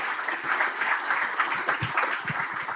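A conference audience at a veterans' business summit claps together in a moderate, continuous round of applause, sounding a little distant and diffuse in a large room.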